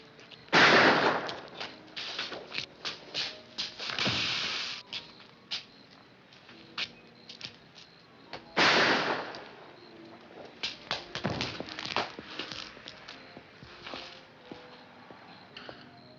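Gunfire in a 1954 crime film shootout, with sharp shots scattered across the scene, a few loud close cracks among quicker, fainter reports and scuffling in between.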